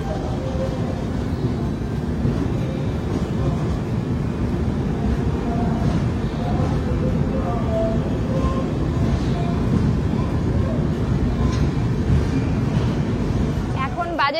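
A long-distance express train from Howrah rolls into Tirupati, a steady low rumble and rattle of carriages throughout, with voices talking over it.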